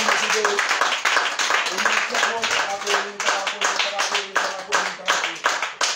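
Audience clapping in a church service, a rapid, dense patter of many hands, fairly close and continuous, under a raised voice speaking over it.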